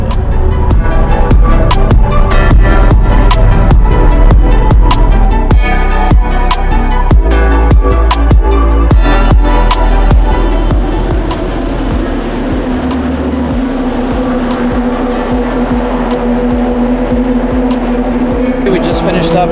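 A Porsche Cayman S on a parade lap at Circuit of the Americas during a track day, its engine droning loud and close with wind roar and rapid rattling pulses, while a person talks over it.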